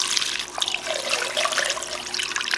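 Running tap water pours over wheat gluten dough being washed and kneaded in a kitchen sink, a close, continuous splashing rush with no voices.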